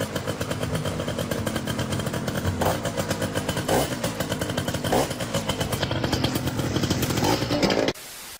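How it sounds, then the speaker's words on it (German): Revving motorcycle with a new aftermarket exhaust, a loud continuous engine drone with rhythmic throttle pulses for about eight seconds before cutting off abruptly. "wie findest du meinen neuen Auspuff?"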